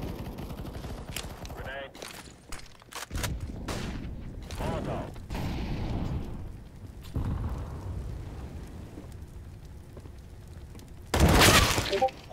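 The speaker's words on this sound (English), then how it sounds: "Ah, my grenade went wrong!" A grenade blast in the CS:GO video game, with sharp bursts and a loud crack near the end among scattered gunfire and game effects, while players talk over the action.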